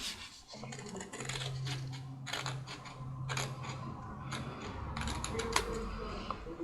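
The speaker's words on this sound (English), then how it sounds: "this is where I'm using the big scissors because the little ones just give me grief sometimes" Large scissors snip through envelope paper in a series of crisp, irregular cuts close by, over a faint low hum.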